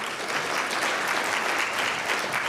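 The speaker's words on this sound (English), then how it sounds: "we can again give him a round of applause anyway" A crowd at a literary awards event claps steadily, a dense, even wash of applause from many hands throughout, fairly loud and without voices standing out.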